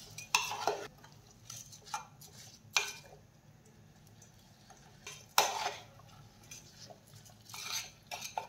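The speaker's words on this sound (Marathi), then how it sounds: "आणि आता आपण हे कुकर मध्ये टाकून छान फ्राय करून घेऊया।" Soaked dal and rice stir-fried in a pressure cooker for masala khichdi: a spoon scrapes and clinks against the metal in irregular bursts, close and fairly quiet, with no voices.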